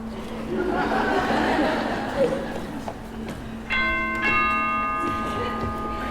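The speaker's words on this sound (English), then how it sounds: "Did I hear the doorbell?" Amid background chatter and a light laugh during a stage play, a bright doorbell chime rings out twice, its tones ringing on briefly.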